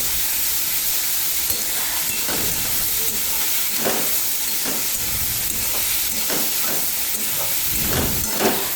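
Eggplant and pui greens fry in oil with five-spice, a steady hiss and sizzle running throughout with recurring bursts of stirring scrapes that come and go in an irregular rhythm, close and fairly loud.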